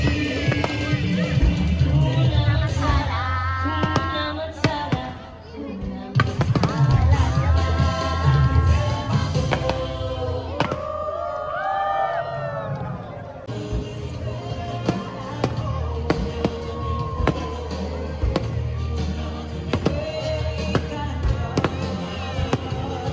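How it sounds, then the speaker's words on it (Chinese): Lion King themed fireworks burst close by over the deck of the Disney Adventure cruise ship at night, with repeated booms, crackles and whistling rockets over music and crowd noise. "我们在18楼漫威甲板看《狮子王》主题的烟火"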